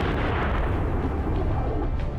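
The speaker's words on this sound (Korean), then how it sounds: "함께 불을 내뿜으며 날아가는 포탄" Cannon shell fired toward a target about 1.7 km away during an army elite-soldier selection shooting test, heard as a dense, sustained low roar and rumble filling the whole moment with no voices.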